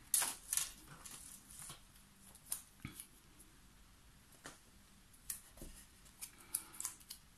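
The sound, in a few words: scissors cutting rhodoid plastic sheet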